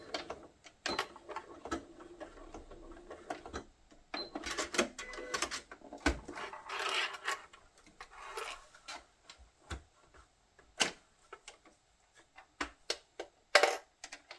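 Fabric is stitched on a sewing machine along a quarter-inch seam, with short runs of rapid clattering and rasping broken by pauses, clicks and handling noises, close and fairly quiet.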